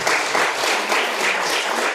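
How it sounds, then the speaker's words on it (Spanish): A church congregation claps for God during a sermon, a steady, fairly loud round of applause filling the room evenly for two seconds. "Denle un aplauso a Dios entonces y háganlo."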